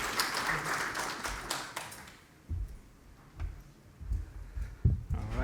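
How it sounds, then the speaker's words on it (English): Brief audience applause for a presenter at an oil and gas industry conference, a burst of clapping in the first two seconds that fades into scattered taps and thumps. "Big round of applause, please."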